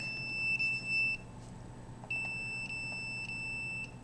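A cell phone signal detector gives a high electronic beeping tone steadily for about a second, pauses briefly, then resumes as a longer sustained beep with slight interruptions over a quiet hum.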